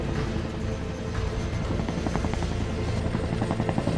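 A gendarmerie mountain rescue helicopter flies close by, its steady rotor thrum and turbine whine loud and continuous throughout, with no voices over it.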